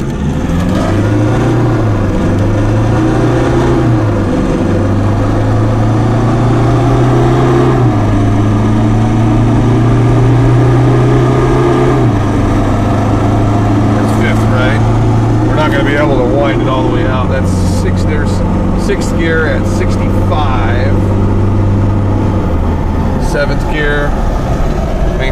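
Cummins R2.8 diesel engine in an 8-speed FZJ80 Land Cruiser drives over mountain passes, giving a loud, steady drone whose pitch rises and falls through gear changes, with a voice talking over it.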